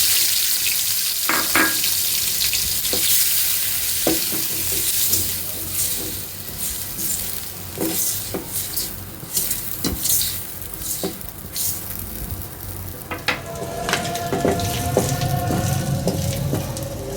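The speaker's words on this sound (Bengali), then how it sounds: "এবার আমি এই যে এখানে 3 হালি 2টা কোয়েল পাখির ডিম নিয়ে আসি। একটু ভাজা নিই।" Quail eggs fry in a pan with a steady crackling sizzle, punctuated by sharp clinks and scraping of a utensil, close up and fairly loud.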